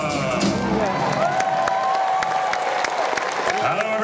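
Family audience at a Wiggles circus-themed concert in Tulsa applauds and cheers, dense sustained clapping with children shouting and a held musical tone over the noise.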